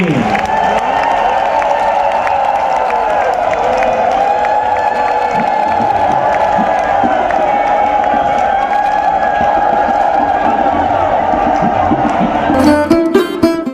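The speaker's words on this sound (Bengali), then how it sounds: "একটু করতালি জোরে জোরে করতালি, মায়েরা উলুধ্বনি" A large devotional crowd at a Jagannath Rath Yatra gathering on a Kolkata maidan claps loudly and continuously while women's high ululation rises over it, a dense, sustained roar that ends in scattered sharp claps.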